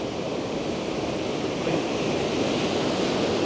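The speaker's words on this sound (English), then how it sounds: "I hope you can hear us over the sound of the water." Powerful water pouring over the edge of a falls, heard from a platform right beside it: a loud, steady, unbroken roar of rushing water with no voices.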